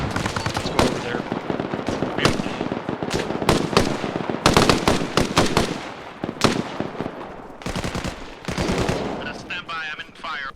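M240 machine gun fire in the military video game Arma Reforger, loud repeated bursts and single shots at varying distances, with faint voices in the background.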